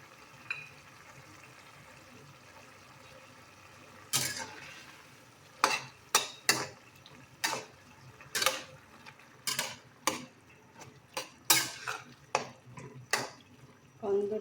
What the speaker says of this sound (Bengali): এবারে চিংড়ি মাছগুলো পুরো মিক্স করে দেবো।